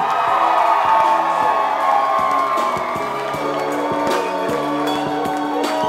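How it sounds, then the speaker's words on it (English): Wedding guests at Kinney Bungalow in Narragansett, Rhode Island cheer and whoop for the newlyweds, a lively crowd of shouts and cheers over music. "Please, have a big Kitty Bungalow welcome for our newlyweds, the new Mr. and Mrs. Lukaboo!"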